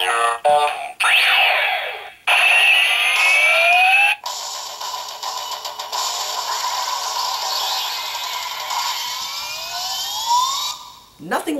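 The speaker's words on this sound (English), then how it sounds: "that is a cool henshin sound" A Kamen Rider Fourze driver toy plays its electronic transformation effects: loud, close synthetic whooshes and rising and falling sweeping tones, broken by abrupt cuts and a sustained buzzing section.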